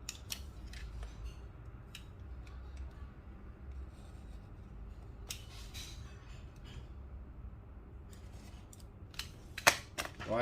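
Scissors make sharp, crisp snips close by while cutting two lines in a DF64 declumper part, irregular clusters of cuts over a faint rustling background, with a louder snip near the end.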